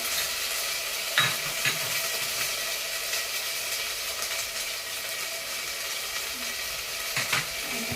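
Ginger garlic paste for a jackfruit pulao sizzles in a pan, a steady, dense frying hiss with occasional scraping stir strokes, close and without speech.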